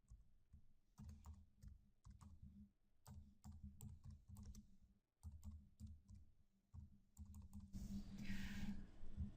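Steady keyboard typing in bursts of rapid clicks with short pauses, fairly close, ending in a brief rush of broadband noise.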